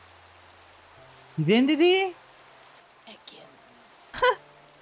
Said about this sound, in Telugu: ఓ నో, వాన పడుతుంది